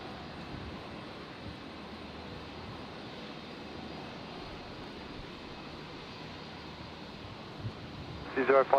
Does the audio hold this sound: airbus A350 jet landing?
yes